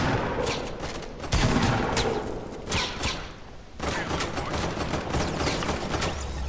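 Rapid bursts of gunfire in the Fortnite battle royale video game, with dense shots and a few heavier thuds. The shots keep coming close and loud through the whole stretch with no speech.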